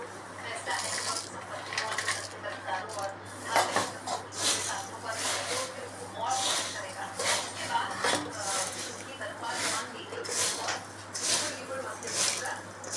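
Fried peanuts stirred into crisp fried poha in a pan, giving steady scraping, rustling and clinking of a spoon against metal with a dry grainy rattle, fairly close and moderately quiet, continuing throughout without talk.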